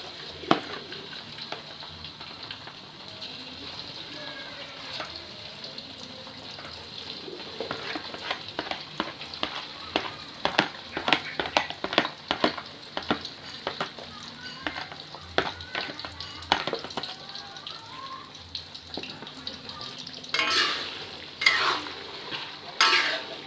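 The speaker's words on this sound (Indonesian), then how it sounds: "setelah minyak dirasa sudah panas, langsung saja kita masukkan ayamnya." Chicken pieces frying in hot oil for mie ayam, with a constant sizzle under clear utensil scrapes and stirring clatter that come and go, ending in several sharp bursts of bubbling.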